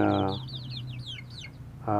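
Young chicks from a farm's former hens cheep in a run of quick, high, chirping calls, with brief lower clucking or vocal sounds at the start and end, moderately close.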